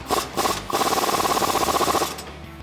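Rapid ratcheting of a wrench on a 24mm socket tightening the nut on a coilover bolt on a 1994-2004 Mustang, a close, steady burst of clicks lasting about a second and a half after a few short clicks.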